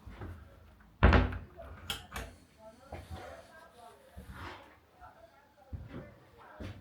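A cupboard door aboard a 2025 Branson Malabar 40 boat opens with one sharp knock, followed by softer bumps and handling clatter. A person speaks intermittently.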